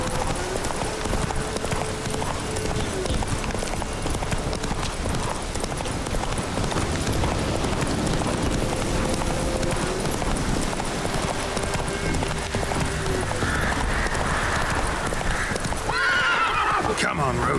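In The Witcher 3, the horse Roach gallops with rapid steady hoofbeats under game music and ambience, then gives a neigh near the end while a player talks over it.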